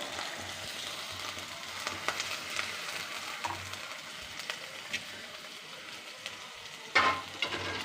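Onions frying in a pan for a coconut-milk fish curry, a soft continuous sizzle with occasional stirring clinks and one brighter metallic tap near the end, no talk.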